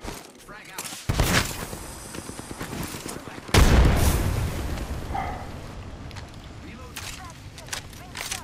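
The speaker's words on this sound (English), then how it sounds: "I threw two grenades in there" Grenade explosions in Apex Legends: two loud booms about two and a half seconds apart, each followed by rumbling decay, amid game noise and players' voices.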